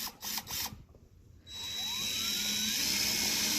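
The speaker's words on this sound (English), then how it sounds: "The screws don't seem to want to go through it though." A power drill drives screws into a wooden board for a shed exterior: short bursts, then a steady high whine that holds close and loud.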